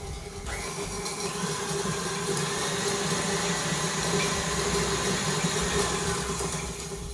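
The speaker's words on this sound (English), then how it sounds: "you can do this by hand or electric whisk, but this is my favourite thing" An electric whisk creams butter for a pineapple upside-down cake, making a continuous close motor whir with a steady tone and a rough, churning texture underneath throughout.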